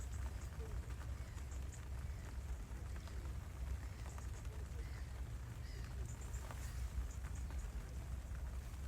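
Rain falls steadily outside a camper door, a faint even hiss with soft scattered drops, while someone talks quietly nearby.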